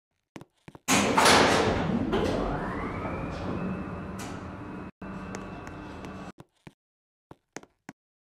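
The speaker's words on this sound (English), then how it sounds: "Doors closing." Skytec Nova lift doors closing with a steady rising mechanical whine lasting about four seconds, then a few scattered clicks and thumps as the doors settle, no voices present.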